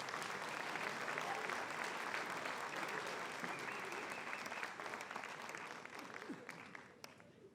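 A large crowd applauds the Middleborough High School class of 2019 at a senior last assembly, steady dense clapping that holds for several seconds and then thins slightly toward the end.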